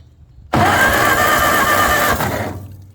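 The starter of a 1953 Ferguson TO-30 tractor, left sitting for fifteen years and fitted with 12 volts, spins the engine over quickly without firing, a loud whirring crank that starts abruptly and cuts off after a couple of seconds.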